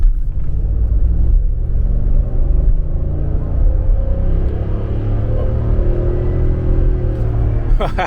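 Ford 7.3 Godzilla V8 pickup truck pulling at about half throttle on a freeway, a deep, steady rumbling drone heard from inside the cab, with road noise underneath and no speech.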